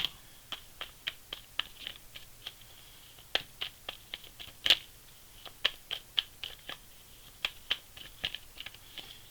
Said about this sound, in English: these are the most difficult cards to shuffle